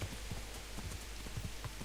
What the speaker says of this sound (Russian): Идиотский дождь.